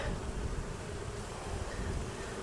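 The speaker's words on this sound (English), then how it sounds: "there are still a few bees in there" Bees buzz inside a water valve in a low, continuous drone, fairly close and steady, with no voices.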